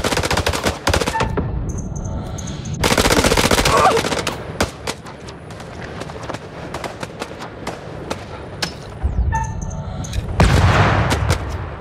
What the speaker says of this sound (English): We are under fire and going down.